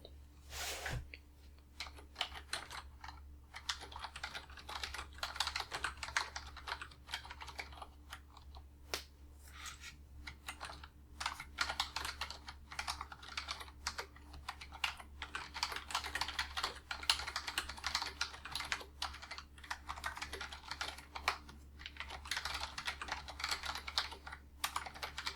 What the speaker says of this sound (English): I'm just typing all the questions down and your answers.